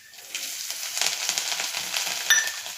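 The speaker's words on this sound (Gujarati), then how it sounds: "હવે એને સરસ રીતે તળાવવા દેવાના છે।" Garlic pieces fry in hot oil in a kadai, following mustard seeds, cumin, curry leaves and hing, giving a steady close hiss of sizzling with small crackles and one brief sharper pop near the end.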